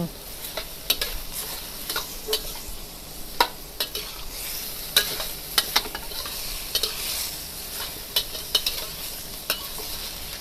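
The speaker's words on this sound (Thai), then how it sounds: "ผัดหมูลงไปให้สุกกับพริกแกง" Minced pork stir-fried with curry paste in a pan gives a steady close sizzle, broken by sharp, regular scraping clacks of a spatula stirring throughout. There is no talk.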